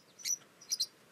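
Birds chirp in the soundtrack of the 2003 film A Tale of Two Sisters: a few faint, short high chirps in quick succession against a quiet background.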